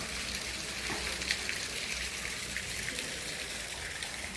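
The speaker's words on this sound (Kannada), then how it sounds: "ಮಳೆ ಬಂದು ನೀರು ತುಂಬಿದ್ದ ಮೇಲೆ ಆ ನೀರು ಮೇಲಿಂದ ಕೆಳಗೆ ಬೀಳುತ್ತಿರುವ ದೃಶ್ಯಾವಳಿ" Rainwater splashing and pouring down from a height behind Sri Rama Mandira temple, Donderangadi, in a steady, broad rush, constant and moderately loud with faint droplet spatter throughout and no talking.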